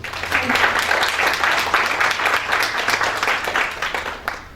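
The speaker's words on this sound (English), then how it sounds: "Please join me in giving them a round of applause" A conference audience gives the organizing team a round of applause, loud and close, with brisk clapping from many hands held at an even level throughout.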